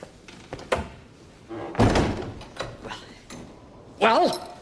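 A door pushed shut in a palace chamber, with a solid thunk and some mechanical clatter of the latch, close and moderately loud, amid scuffling movement and a brief voice.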